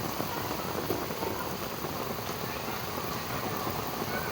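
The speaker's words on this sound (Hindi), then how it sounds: "कितनी तेज़ बारिश हो रही है।" Heavy evening monsoon rain pours in a dense, continuous hiss of drops striking surfaces, loud and unbroken, with a faint rumble that may be distant thunder and no talking.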